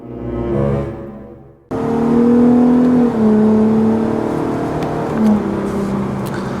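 A Ford Raptor truck's exhaust revs hard and loud at close range after a brief quieter engine note, with the deep roar rising and dipping through several seconds and no voices over it.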